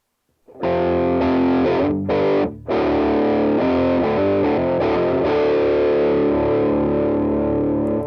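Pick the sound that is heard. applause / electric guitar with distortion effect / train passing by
electric guitar with distortion effect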